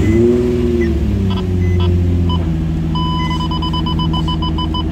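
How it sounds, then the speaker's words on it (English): A Nissan 350Z or Infiniti G35 engine turns over and catches, settling into a steady close idle; a faint electronic chime repeats in the background. "So we're going to start the engine, make sure that the valve is working properly."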